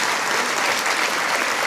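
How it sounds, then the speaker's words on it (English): A crowd applauds steadily, a dense wash of clapping at full volume from start to end. "Please give them a big round of applause."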